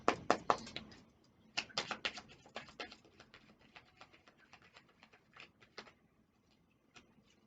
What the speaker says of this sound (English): You guys know I hate shuffling, the sound of shuffling